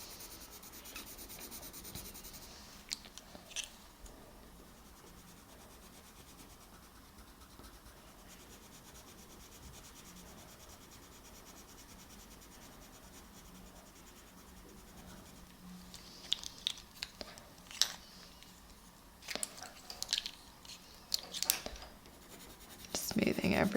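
Colored pencil shading on paper with warm grey and raw umber, a faint soft scratching that runs quietly throughout and grows into brisker, louder strokes near the end.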